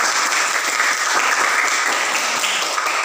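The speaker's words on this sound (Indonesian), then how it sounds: "Tepuk tangan dulu untuk kita semua" A classroom group applauds together at the end of a lesson, a steady, dense clatter of many hands clapping close by, unbroken and even throughout with no talk over it.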